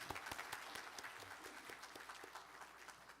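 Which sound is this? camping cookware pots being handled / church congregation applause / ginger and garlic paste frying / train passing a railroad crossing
church congregation applause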